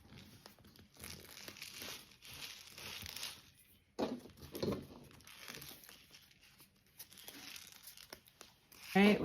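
A paper painting from a children's Aboriginal art project being flipped over and rolled up, giving steady close crinkling and crumpling rustles with one brief pause and a louder crackle at the end.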